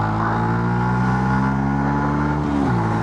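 A 125cc motorcycle engine, still being run in, is revved hard and held at a steady high pitch close by, then drops briefly near the end.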